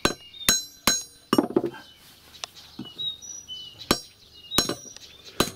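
Sharp metallic hammer strikes peening a scythe blade outdoors, a handful of separate ringing blows spaced irregularly with short pauses between them, close and fairly loud, with faint birdsong in the background.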